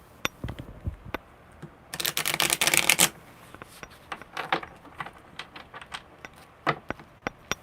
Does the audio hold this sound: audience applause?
no